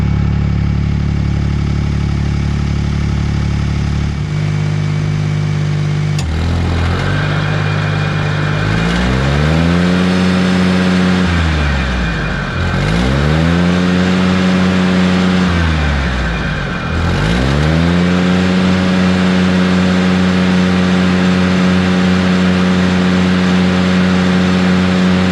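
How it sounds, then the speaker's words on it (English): A Bush Hog rotary mower runs loud and steady after a tune-up, its engine repeatedly dipping and swelling in pitch as it settles into running, with no voices. "I'm going to go ahead, start it up, run it, and make sure that everything sounds and feels like it should."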